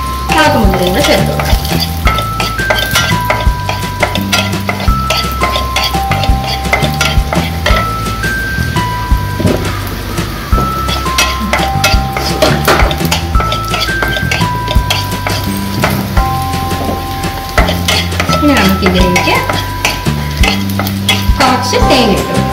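Raisins frying in a pan for Malabar unnakkaya, stirred and scraped with a utensil, giving a busy sizzle with frequent clinks and taps against the metal, while background music plays throughout.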